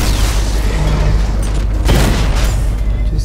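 Gunfire used to power up a device in Batman Arkham Knight, a loud dense roar of booming bursts and blasts with a sharper crack near the middle, continuous for a few seconds.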